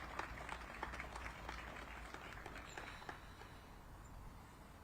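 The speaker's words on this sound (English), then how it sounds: "please join me in giving Amazon a round of applause for being where we are today" Audience applause for Amazon at an affordable housing groundbreaking ceremony in Ward 2, Washington DC, faint distant clapping from an outdoor crowd, a scattered patter that thins toward the end.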